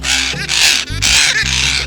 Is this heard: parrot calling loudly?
yes